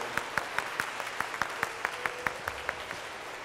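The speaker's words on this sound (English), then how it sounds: "Round of applause." Applause at a livestreamed music performance by a duo: a small audience claps steadily in an even rhythm, fairly soft and sparse, with a faint low hum beneath.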